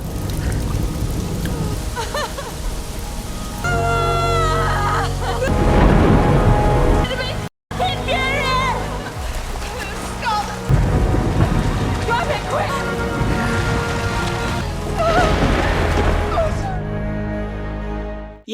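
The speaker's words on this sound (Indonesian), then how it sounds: "Sadar sebentar lagi akan ada badai" A film thunderstorm at sea off an island pours heavy rain, with thunder rumbling and cracking throughout. Dramatic music and other sounds are layered in, with a brief dropout midway.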